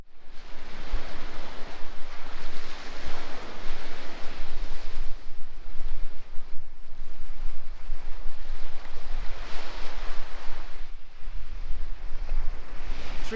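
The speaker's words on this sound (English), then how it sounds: "for now we're looking at the North Sea" North Sea surf at Skagen on a rainy day, with loud wind buffeting the microphone over a constant roar of breaking waves that swells and eases in long surges.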